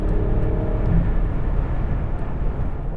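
A Mercedes-AMG GLC43 Coupe engine droning steadily and loudly with a low, continuous roar as the gears drop under hard acceleration toward redline, with no voices.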